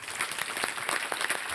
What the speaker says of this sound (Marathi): जरा जोरदार टाळ्या त्यांच्यासाठी